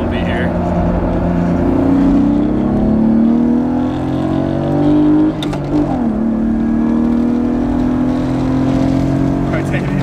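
A tuned BMW E36 engine drones loud and close as the car cruises, its pitch climbing and falling steadily, with voices talking over the drive.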